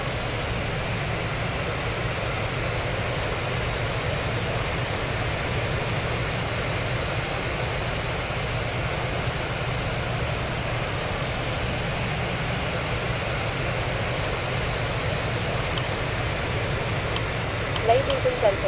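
Thai Airways A330-300 taxiing to the gate in Real Flight Simulator, a steady loud jet-engine whine and rumble held at near-constant level throughout, with a few faint clicks near the end.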